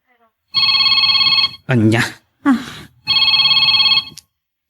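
Mobile phone ringtone in a drama scene, a repeating electronic ring in two long bursts with a voice speaking briefly between them.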